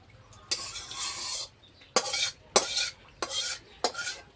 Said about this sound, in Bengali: একটু বড় গামলাতেই নামাচ্ছি,